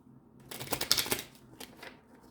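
Tarot cards are shuffled in a quick burst of crisp riffling and flicking, close and fairly quiet, tapering into a few lighter slaps.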